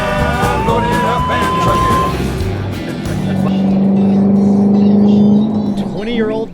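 A 20-year-old Chevrolet Corvette cruising on the highway, its engine a steady droning hum that swells slightly in pitch, heard from inside the car under music and someone talking.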